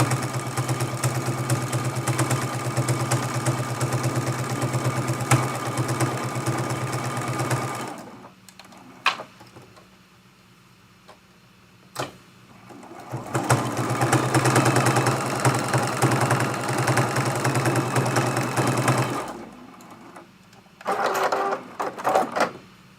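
A sewing machine stitches a layer cake pin cushion, running steadily for several seconds, stopping for a quiet pause, then whirring again for a long stretch before a few short final bursts.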